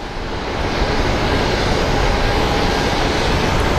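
A small airplane takes off at Phoenix Sky Harbor International Airport, giving a loud, broad engine roar that holds steady and close for the whole stretch without a break.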